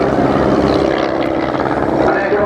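Sopwith triplane replica flying at the Dunsfold Wings and Wheels airshow, a continuous loud propeller-engine drone throughout, steady and fairly close.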